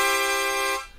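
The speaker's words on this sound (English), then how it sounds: "instead of blowing into multiple holes, which will sound like this" A diatonic harmonica blown across several holes at once, giving a dense, bright chord that sustains loudly for most of a second before cutting off.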